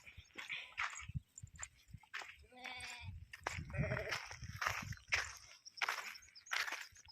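A flock of sheep at a rural pen where a fence is being built, bleating repeatedly at varying distances, some calls close and loud, with light footsteps and rustling between the cries.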